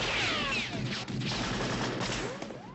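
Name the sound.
Indiana Jones gunshot, recorded .30-30 Winchester rifle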